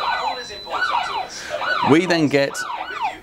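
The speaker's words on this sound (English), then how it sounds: "somebody was to push one of the buttons that are inside their booths for the panic alarms" A toll booth panic alarm on a PA and alarm system sounds as a repeating, swooping siren-like electronic tone in quick cycles, fairly loud, with someone briefly speaking over it.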